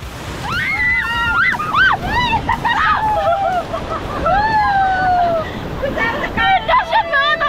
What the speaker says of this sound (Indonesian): Dahsyat banget ombaknya ini,